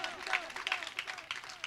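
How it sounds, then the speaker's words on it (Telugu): An audience claps loudly in a dense, steady patter of many hands, with a voice sounding over the applause. "కొట్టండి చప్పట్లు గట్టిగా"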